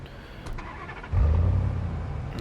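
A tow truck arrives in Police Simulator: Patrol Officers. A quiet idle gives way to a sudden, loud, deep engine rumble that holds steady nearby.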